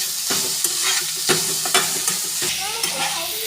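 A spoon scrapes and stirs vegetable masala frying in a pan for a flattened-rice snack, with repeated rhythmic strokes over a soft, steady sizzle.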